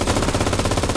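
Rapid, continuous MG34 machine gun fire in Enlisted, Normandy setting: a loud, close, evenly spaced stream of shots with no pause, no talk.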